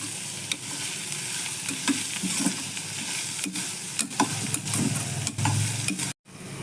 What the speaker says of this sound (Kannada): ಸ್ವಲ್ಪ ಕಂದು ಬಣ್ಣ ಬರೋವರೆಗೂ ಫ್ರೈ ಮಾಡ್ಕೋಬೇಕು